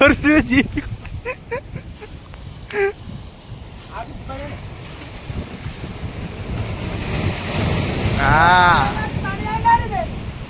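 Ocean waves wash onto Arjyapalli beach in Odisha with a rushing roar, swelling louder near the end, mixed with wind buffeting the microphone and brief voices.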